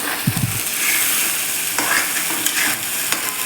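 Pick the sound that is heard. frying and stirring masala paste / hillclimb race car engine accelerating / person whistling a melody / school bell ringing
frying and stirring masala paste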